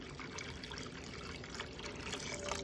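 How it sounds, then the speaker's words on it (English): Water is poured into a pot to cover chicken thighs for Cajun sticky chicken, a quiet, steady trickling pour that continues evenly without a break. "And then I'm gonna put and cover the rest of it with water."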